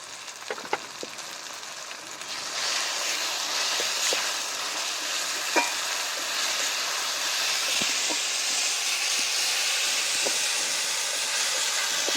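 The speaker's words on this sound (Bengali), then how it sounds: "এবার আমি বেটে রাখা আদা রসুন লঙ্কা দিয়ে দেবো।" Ginger, garlic and chili paste added to frying onion and tomato, a hissing sizzle that swells after a couple of seconds and stays steady, with scattered light clicks of utensils and no speech.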